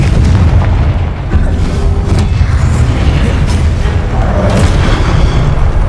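The Confringo fire spell from the Hogwarts Legacy video game bursts with loud, heavy booming blasts under a dense rumbling game soundscape, sharp explosive hits recurring across the few seconds.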